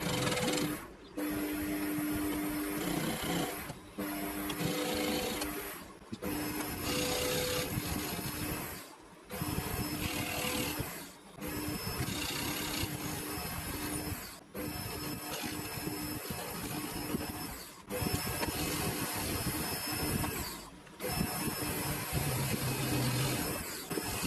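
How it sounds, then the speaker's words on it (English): A metal part for a homemade ER32 collet chuck spin indexer turns on a lathe, giving a steady machining hum and rasp that runs through the whole stretch, broken by several short pauses where the cut stops. "I'm going to put that in the lathe and do the rest of what I want to do to it"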